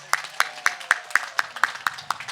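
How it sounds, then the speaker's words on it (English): A convention audience claps in unison, around nine crisp, evenly spaced claps at a brisk, regular beat over a quiet background. "I would like us to give ourselves a big round of applause"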